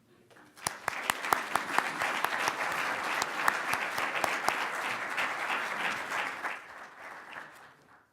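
A conference audience at TransformingEDU 2014 applauds to welcome Anant Agarwal, with steady, dense clapping that swells quickly, holds for several seconds, then fades out.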